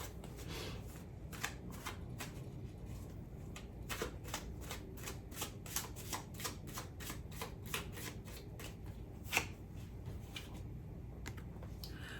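Tarot cards shuffled by hand, a quiet close run of quick riffling snaps and soft papery flutters repeating steadily for about twelve seconds with no speech.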